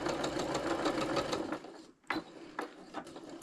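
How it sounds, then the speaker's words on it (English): Sewing machine stitching lines through a small fabric basket with interfacing, a steady close whirring run of stitches that slows and pauses briefly near the middle before resuming in short bursts. "we'll just sew down all 4 of those lines that we just drew"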